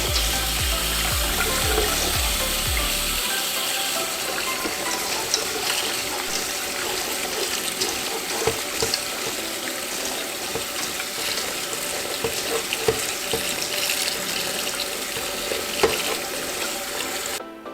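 Crickets get rinsed in a colander under a running kitchen tap, a loud steady gush of water splashing through the mesh, with a brief lower rumble at the start before settling into continuous spray.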